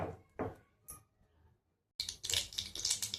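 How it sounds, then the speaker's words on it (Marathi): Mustard seeds crackle in hot oil for a tempering while making garlic-and-chilli thecha: a few faint clicks, a brief pause, then a sudden burst of dense close popping and spitting. "मोहरी तडतडली"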